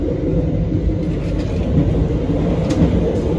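Steady, loud rumble of a moving Indonesian economy-class passenger train, a continuous low roar with rattling, heard from inside.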